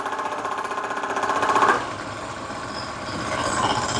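An engine running with no motor oil gives a loud, close, steady mechanical clatter with a fast rhythmic knock, shifting to a rougher, slightly lower drone partway through.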